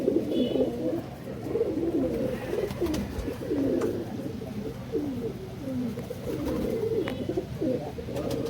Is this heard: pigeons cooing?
yes